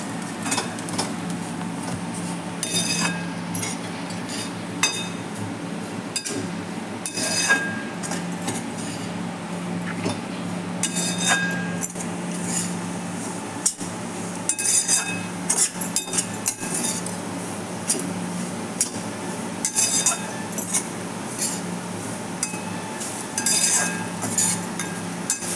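Semolina (rava) is fried and stirred in a pan for upma: a continuous low hiss runs under frequent metallic clinks and scrapes of a utensil against the pan, close and with no talk.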